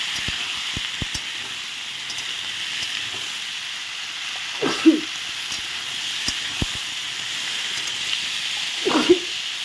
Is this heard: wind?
no